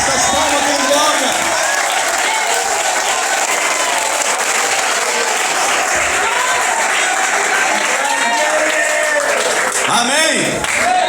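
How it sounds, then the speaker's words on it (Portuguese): Congregation in a Brazilian Pentecostal church clapping hands in worship, loud continuous clapping mixed with shouts and cheering, voices calling out over the steady dense clapping throughout. "Mistura essas palmas com glória."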